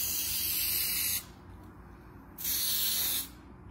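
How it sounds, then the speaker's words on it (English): A can of edible food coloring spray hisses onto a cake in two steady bursts separated by a short pause, close and fairly loud over faint room noise. "Now I got this edible food coloring spray"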